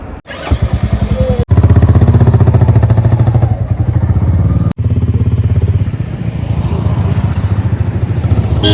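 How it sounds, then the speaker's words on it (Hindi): Motorcycle ridden along hilly mountain roads in Meghalaya, its mid-pitched engine droning loud and close with steady revving and a few abrupt cut-outs, no talk over it. "तब से मैं ही बाइक चला रहा हूँ भाई"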